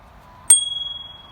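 A single bright ding from a bicycle bell on a Whirlwind e-bike, struck once and left to ring out with a long, fading metallic tone over faint background noise.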